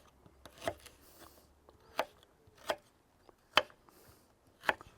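A knife chopping brushed, washed organic ginger on a board: five distinct, fairly loud cuts at slow, uneven intervals, close by with no voices.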